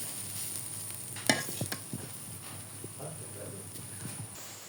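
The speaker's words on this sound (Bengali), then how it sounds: "সুন্দর করে ভাজিটা ভেজে নিচ্ছি, মিডিয়াম আঁচে আছে ভাজতে হবে।" Grated potato bhaji fries over medium heat in a pan, with a faint steady sizzle under a few sharp scrapes and knocks of stirring, plus a high steady hum in the background.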